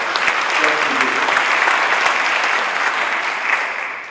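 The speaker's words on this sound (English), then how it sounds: "Let's give yourselves a round of applause for all the good work you do in your community" A community audience gives itself a round of applause at a talk by a Mercy Health market president, dense sustained clapping from a roomful of people that tapers slightly at the end.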